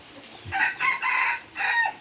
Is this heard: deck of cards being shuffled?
no